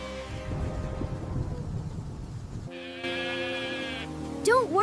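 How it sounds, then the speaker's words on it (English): Sheep bleat nervously in a huddled flock, a few wavering cries rising over low murmuring background noise, followed by a brief sweeping tone near the end. "he found his sheep huddled together, bleating nervously"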